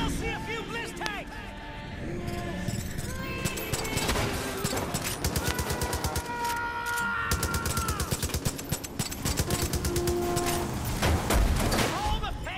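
Gunfire in Far Cry 5, sharp rapid shots in bursts spread through the scene, mixed with game music and effects while someone talks over it.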